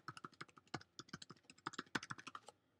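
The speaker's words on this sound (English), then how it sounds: "Type in the password." Quick, light keystrokes on a Mac computer keyboard as a password is entered, about two dozen close, crisp taps in an uneven run that stops abruptly.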